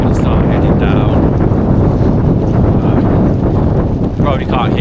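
Strong wind on a Snowdonia mountain in cold, wet weather at a wild camp, roaring and buffeting the microphone as a loud, unbroken rush with no let-up.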